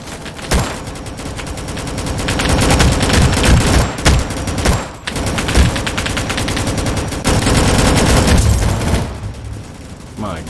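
Repeated gunshots in the Roblox game Rolling Thunder, rapid loud volleys and bursts running almost continuously with brief gaps, mixed with mechanical game sounds.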